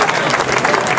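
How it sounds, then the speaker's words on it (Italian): An audience at a local Italian event applauds a young girl, dense steady clapping filling the short moment at full loudness, with a few voices mixed in. "Facciamo un altro applauso alla ragazzina"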